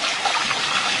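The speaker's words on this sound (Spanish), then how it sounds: "Ahora se le da agua mientras que se está lavando." Tap water gushes steadily into a film developing tank for the wash stage, giving a brief, even, hissing rush close by.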